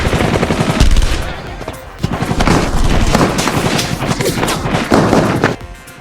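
Loud, sustained automatic gunfire with rapid overlapping bursts and heavy thuds rings out during an ATF firefight at a besieged compound, continuous for several seconds before easing off.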